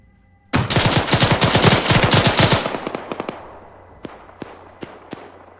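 Rapid automatic gunfire crackles in an Arma 3 firefight, a loud sustained burst of close shots followed by a few scattered single reports trailing off.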